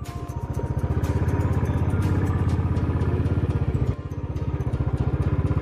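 A motorcycle engine churns steadily while riding off-road through loose sand, close and loud with a rapid pulsing throb and rattling clatter, a brief dip in level partway through.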